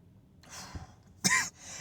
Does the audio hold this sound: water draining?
no